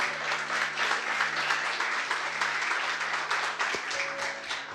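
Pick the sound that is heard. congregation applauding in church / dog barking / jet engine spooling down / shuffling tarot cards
congregation applauding in church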